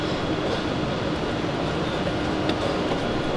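A train stands or moves at a railway station platform, a steady low rumble and broad rail noise filling the scene throughout, with a faint metallic accent near the end and no clear talk.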